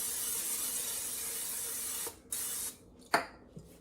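Cooking spray hissing from a can onto sticky sourdough cinnamon bread dough, a long continuous close spray that cuts off, followed by a couple of short bursts and a light knock.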